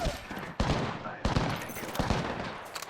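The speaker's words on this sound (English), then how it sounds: "Getting shot at." Rapid gunfire from an online shooter shown at the Xbox Games Showcase, sharp repeated shots in bursts filling the mix, loud and close with a steady game background underneath.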